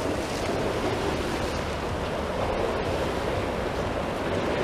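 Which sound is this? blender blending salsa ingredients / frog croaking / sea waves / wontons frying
sea waves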